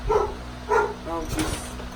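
A pet dog barks a few times indoors during the unboxing and set-up of a tug-of-war clowns toy, short yips overlapping with a person talking nearby.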